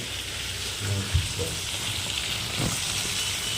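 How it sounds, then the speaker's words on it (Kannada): Fish frying crisp in hot oil at an outdoor fish party, with a dense steady hiss of bubbling oil nearby and a few low knocks, no clear talking. "ಫ್ರೈ ಕಡಕ್ ಫ್ರೈ ಮಾಡ್ತಾ ಇದ್ದೀವಿ."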